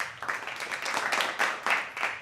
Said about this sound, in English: I prefer that clap